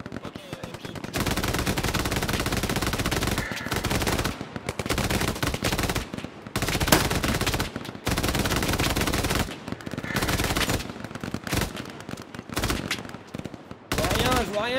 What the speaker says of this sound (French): Ok, messieurs, MG, tu peux mettre en position et tu fais feu